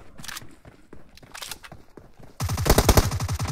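Gunfire in the mobile shooter Battlegrounds Mobile India: scattered shots and footsteps give way to a loud, rapid burst of automatic fire lasting about a second.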